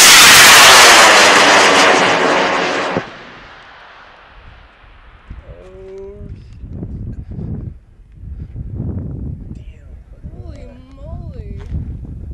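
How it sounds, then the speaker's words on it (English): A loud, roaring aircraft engine fills the first few seconds, then cuts off abruptly, leaving voices talking over quieter background noise. "we got an airplane here"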